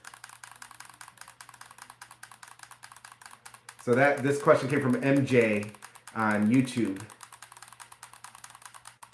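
Rapid, steady clicking from the mouse-click triggers on an Xbox gaming controller runs through the whole stretch, close and fairly quiet, with someone talking over the middle part.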